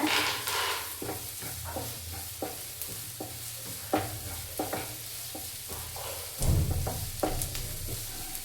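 Garlic cloves frying and being stirred in a pan while beetroot chutney is cooked, a steady close sizzle punctuated by repeated scraping stirs and a louder hiss near the end.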